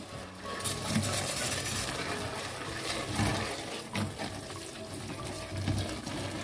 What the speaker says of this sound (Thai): เราควรนำมาล้างในน้ำเปล่ากันก่อนนะครับ